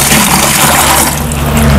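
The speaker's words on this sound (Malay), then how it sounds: "kita perlu masukkan air" Water pours steadily into a batch of rice bran being mixed as black soldier fly larvae feed, a continuous close gushing fill with no talk.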